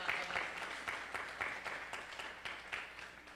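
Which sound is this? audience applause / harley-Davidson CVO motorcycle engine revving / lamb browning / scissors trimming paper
audience applause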